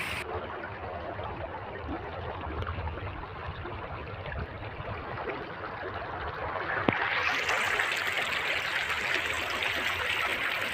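A clear, fast-flowing river in Assam near Bhutan Chowki rushes steadily close by, a constant broadband gush with no voices over it.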